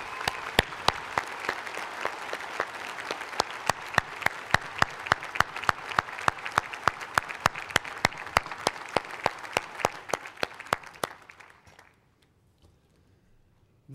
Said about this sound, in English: Please salute these wonderful alums with a round of applause.